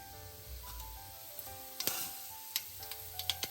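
Mustard seeds and fennel seeds frying in a little oil in a pan for chicken curry: a faint, quiet sizzle with scattered sharp pops and crackles.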